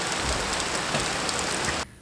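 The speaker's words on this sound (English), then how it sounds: "We got rain dumping in." Heavy rain pouring in through an open door of a small mobile home, a loud, dense, steady hiss up close that drops away suddenly near the end.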